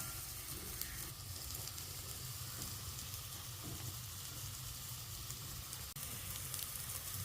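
Eggs and potatoes crisp in oil on a low flame for an egg-potato roast, giving a dense, even sizzle that crackles steadily throughout. No voices, and one brief knock near the end.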